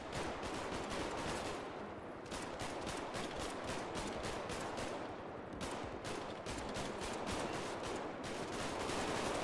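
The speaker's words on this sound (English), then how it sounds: "Alright, wait till they start shooting" Continuous heavy gunfire from a GTA shootout, rapid overlapping bursts of automatic shots filling the whole stretch with only brief lulls, loud and dense.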